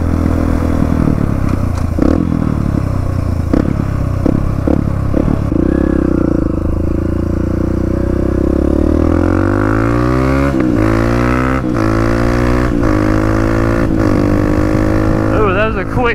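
A dirt bike engine revs hard near a creek, climbing and dropping in pitch through quick gear shifts, with clattering and scraping mixed in and someone talking over the loud motor.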